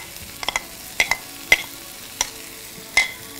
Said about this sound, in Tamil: அந்த வெஜிடபிள்ஸ் நாம் இப்போது ஆட் பண்ணுறோம்.